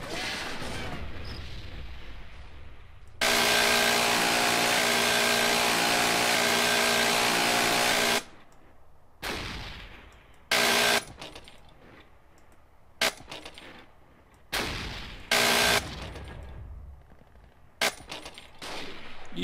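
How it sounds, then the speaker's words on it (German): Gunfire in the Battlefield 1942 video game with the Eve of Destruction mod: a long loud sustained burst of automatic fire, then a series of shorter sharp bursts and shots in broken rhythm, close and dominant. "Ich werde beschossen."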